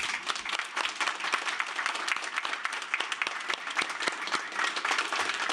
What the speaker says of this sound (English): this round of applause from us is for you